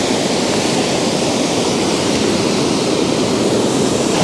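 A waterfall in overcast Scottish woodland roars up close, a loud, continuous broadband rush of falling water that holds steady throughout.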